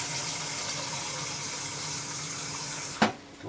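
About 1.5 litres of water is run into a pot for chicken soup: a steady, close rushing stream flows for several seconds, then ends in a single sharp knock, with no talk.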